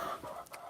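A hen in a backyard flock clucks briefly and close by, a short quiet burst of fowl sounds with no talking.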